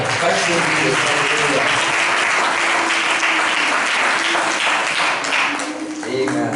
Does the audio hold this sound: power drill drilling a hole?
no